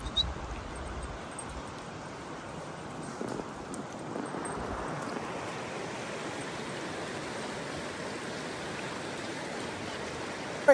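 Foley Creek flows as a steady, broad rushing wash of water, loud and continuous throughout, with no voices over it.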